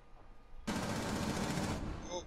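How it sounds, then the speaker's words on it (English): Rapid automatic gunfire in Rainbow Six Siege on the Chalet map, a dense sustained burst that starts abruptly and runs over a second before cutting off, with faint voice-like sounds nearby. "Somebody shot me from behind."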